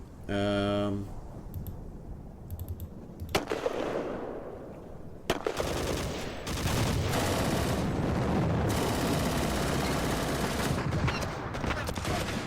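Gunfire in the wargame Panzer Campaigns Kiev '43, loud crackling rapid bursts and rattling volleys that build into sustained firing, with a voice talking over the opening.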